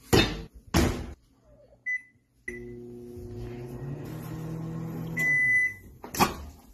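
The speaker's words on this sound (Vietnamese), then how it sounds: "if you take a piece of corn right from the stalk and you put it in the microwave" A microwave oven hums steadily with a fresh corn cob from the stalk inside, bracketed by beeps and the clunks of the door opening and closing; no one speaks.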